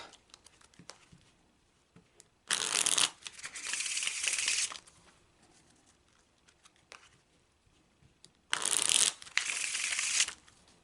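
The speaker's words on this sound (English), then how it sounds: "Oh, and I love how the cards shuffle." Cards being shuffled close by: a long fluttering riffle, a pause with light handling, then a second quick riffle-shuffle.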